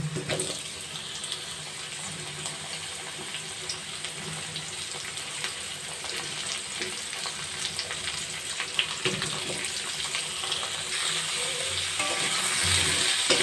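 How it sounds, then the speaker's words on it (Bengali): Potatoes and cucumber fry in a pan with a dense, steady sizzle that holds for the whole stretch, close and loud and growing slightly stronger toward the end, with no voices. "এবার এক মিনিট ভালো করে আলুগুলো ভেজে নেব"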